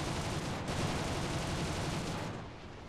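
Dense, continuous roar of rapid aircraft gunfire from Bf 109 fighters in War Thunder rumbles for a few seconds before tapering off slightly at the end.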